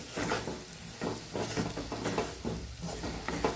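A spoon stirs masala capsicum (shimla mirch) sabzi with freshly ground spice mix in a pan, making repeated scraping, shuffling strokes in a loose rhythm over a soft sizzle, close and fairly loud.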